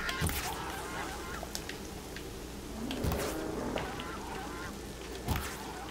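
Geese honking and quacking in the video game Horizon Zero Dawn, a cluster of loud calls near the start, another burst around the middle and a sharp honk near the end over steady game ambience.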